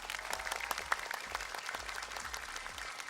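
Applause from a large audience at a major Indonesian fashion show, a steady wash of clapping that holds evenly throughout, at moderate volume with no voices over it.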